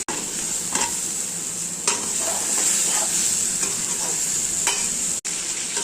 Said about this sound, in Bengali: এবার দেখো ভালো করে আলু আর পটলটাকে আমি ভেজে নিচ্ছি